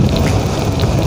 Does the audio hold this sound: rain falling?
yes